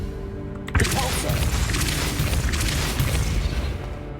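Depulso spell cast in the video game Hogwarts Legacy, a sudden booming burst that gives way to a sustained rumbling, crackling wash over a low game background.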